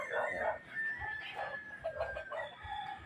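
Roosters and hens kept for cockfighting crow and cluck in the morning, several birds calling in overlapping bursts at moderate distance, faint and without talk.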